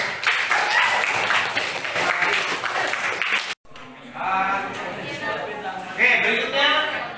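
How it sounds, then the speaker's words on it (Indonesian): A classroom of students claps for a classmate, with scattered applause rising and fading in two bursts and voices talking alongside it. "Kasih tepuk untuk Vino."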